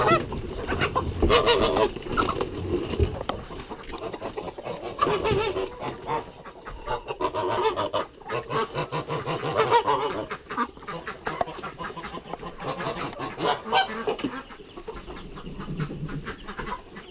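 A flock of domestic geese honks loudly and continuously at close range, mixed with other poultry such as ducks and chickens calling throughout.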